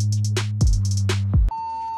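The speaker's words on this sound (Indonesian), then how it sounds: "suara beep atau sirine ini disertai dengan stuck pada saat startup" A laptop stuck at startup emits a repeating pattern of short, loud, high electronic beeps in bursts, ending in a single steady tone, with no voices.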